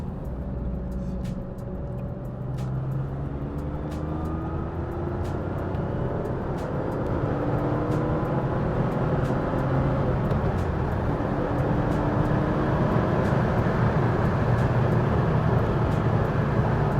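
A classic Porsche 911 Targa cruises on a highway, its steady engine and road roar swelling gradually louder over seventeen seconds, with no one talking.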